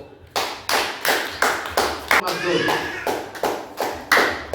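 A church congregation claps together for Jesus in a steady, loud rhythm of about two claps per second, sharp and close, carrying through a reverberant hall with no voices.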